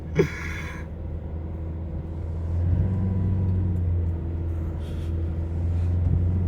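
A Toyota Hilux in four-wheel drive low churns through mud, its engine a steady low rumble that swells as it pushes on, with a brief voice at the start.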